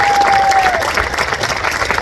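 An audience claps and cheers for two men at an event, a dense, steady burst of applause filling the space at close range, with a brief tone sounding at the start.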